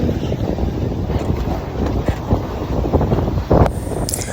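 Wind rushing past on the upper deck of a moving passenger boat on a long sea crossing, a loud continuous low roar and buffeting with engine rumble underneath and occasional gusts.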